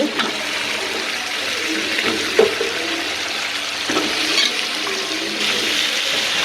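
Turnip and potato pieces going into a spice paste frying in a pan for a Bangladeshi pangas fish bhuna, giving a steady watery sizzle with a few small clinks throughout.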